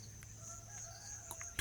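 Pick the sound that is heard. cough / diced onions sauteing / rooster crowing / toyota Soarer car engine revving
rooster crowing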